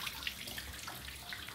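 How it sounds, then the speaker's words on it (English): A backyard waterfall trickles softly with a steady, faint splashing wash of water, no voices over it. "And the waterfall trickling."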